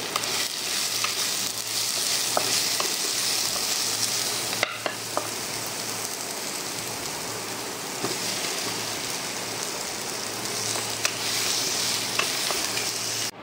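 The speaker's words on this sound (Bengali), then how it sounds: "এই যে এখানে ডিমের তরকারি হচ্ছে" Egg curry cooking in a pan at home: a dense, continuous frying hiss close by, with light stirring clicks scattered through it and one brief break partway, no voices.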